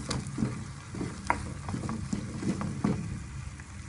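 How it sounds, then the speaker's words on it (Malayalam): Sweet banana filling stirred in a pan with a pinch of salt, a spoon scraping and clicking against the pan in a steady, irregular rhythm over a faint sizzle, close and moderately quiet. "ഇളക്കിക്കൊണ്ടേയിരിക്കാം"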